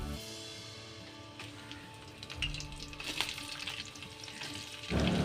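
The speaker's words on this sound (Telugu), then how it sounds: "ఫస్ట్ ఆయిల్ వేసుకొని పోపులు వేసుకొని ఆనియన్స్ వేసుకోవాలి." Onions and tempering spices frying in oil in a pan, with a soft continuous sizzle and crackle, quiet at first and growing busier and louder toward the end.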